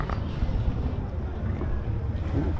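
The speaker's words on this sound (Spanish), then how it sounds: "Están todas las lanchas." Motor launch boats on Lake Atitlan, a low steady engine rumble mixed with wind and water noise, close by and continuous.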